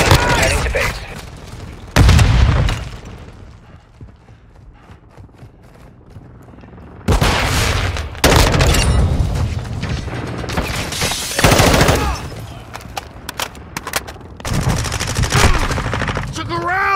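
Military video game combat with loud, close bursts of automatic gunfire and booming shots, arriving in separate volleys between quieter gaps, with radio-style voices mixed in.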